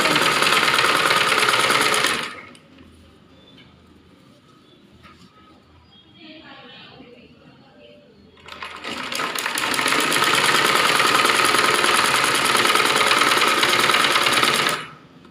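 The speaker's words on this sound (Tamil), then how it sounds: "அதுக்கு மேலேயே இந்த லேஸை வச்சு அப்படியே தைக்க" Electric sewing machine stitching lace onto a saree blouse round neckline: a loud, close, steady whirring stitch run for about two seconds, a quiet pause with faint handling, then a longer continuous run before it stops.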